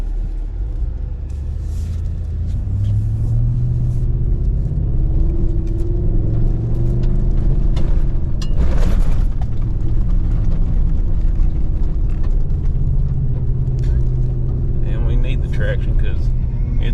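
A Ford 7.3-litre gas Tremor pickup truck towing a heavy load, its engine giving a loud, continuous low rumble with rising and falling revs as the wheels spin for traction.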